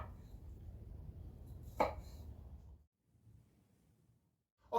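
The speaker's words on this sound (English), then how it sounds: "I'm going to continue cutting these strawberries" Knife chopping through strawberries on a board, a steady run of soft close cuts with one sharper knock, then a near-silent pause before another crisp cut at the end.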